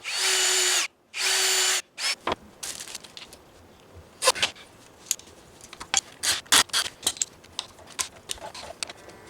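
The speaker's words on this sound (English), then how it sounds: "I went ahead and drilled holes" Two sustained bursts of a power drill whirring close up, followed by a series of scattered clicks, scrapes and plastic rattles.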